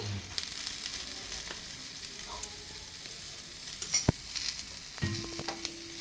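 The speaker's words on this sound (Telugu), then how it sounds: "ఇది మంచిగా వేయించుకోవాలి." Spices for a fish curry masala fry softly in a pan, a faint, even sizzle with occasional stirring scrapes and small clicks, no voices.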